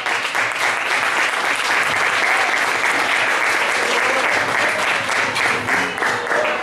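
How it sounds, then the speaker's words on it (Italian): Dense, sustained applause from a large audience at a Neapolitan classic music festival, steady and loud throughout with no pauses. "vi voglio far fare a voi stessi un forte applauso"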